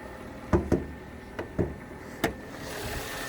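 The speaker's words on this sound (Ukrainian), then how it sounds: "Мотор працює рівно собі справно, ніяких нюансів по ньому немає." A Hyundai Sonata Hybrid engine idles with a low, even hum, broken by several sharp knocks and clicks nearby.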